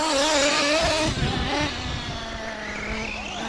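High-pitched whine of a small electric motor in an RC stadium truck racing past, its tone rising then dropping as it speeds by, loud and close.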